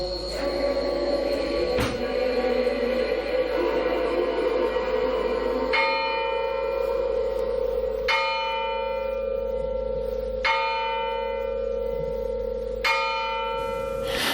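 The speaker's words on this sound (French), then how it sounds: "C'était les cloches de Cendrillon." Bells of the Cinderella attraction at Efteling ringing, several bright strikes a few seconds apart over a steady hum, each chime ringing out and decaying, heard clearly from nearby.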